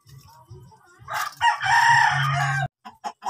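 A fighting rooster in a rural pen crows loud and close in one long, strained cock-a-doodle-doo, with a few short clucks before and after.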